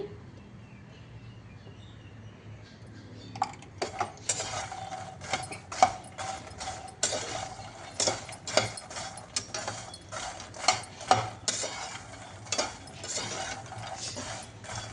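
Puffed makhana is tossed with oil, salt and turmeric in a pan, giving a run of quick metallic spoon scrapes and clinks against the pan that starts after a quiet few seconds and continues in irregular bursts, close and moderately loud.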